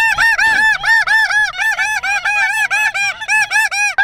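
A flock of snow geese calls in a steady, continuous stream of loud, rhythmic honks close overhead during a field hunt, with no voices.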